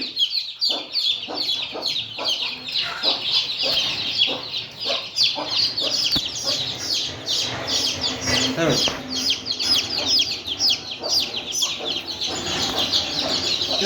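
A flock of village country hens and chicks clucks and peeps continuously at close range, with steady overlapping calls and a few voices talking underneath.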